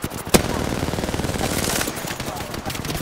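Rapid automatic gunfire in the battle royale video game Apex Legends, a sustained fast stream of shots lasting nearly the whole stretch, loud and close, with a single sharp louder crack near the start and a voice briefly heard.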